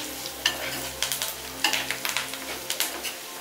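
Onions and curry leaves frying in a pan make a soft continuous sizzle, punctuated by regular scraping strokes of a spatula against the pan and a low background hum.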